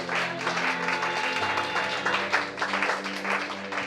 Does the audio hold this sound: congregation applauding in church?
yes